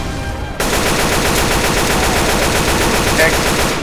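Loud sustained automatic gunfire in Left 4 Dead 2 as players shoot the Tank, a dense rapid stream of shots starting after a brief quieter moment and continuing without pause.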